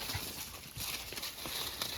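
Cows walking toward the camera on a homestead at feeding time, with soft hoof thuds and shuffling steps over a steady outdoor background, close and moderately loud, no voices.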